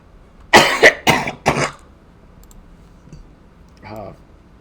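Three harsh, close coughs in quick succession, followed by quiet and a softer throaty sound near the end.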